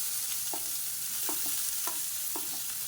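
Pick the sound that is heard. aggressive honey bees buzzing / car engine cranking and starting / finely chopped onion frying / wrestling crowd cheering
finely chopped onion frying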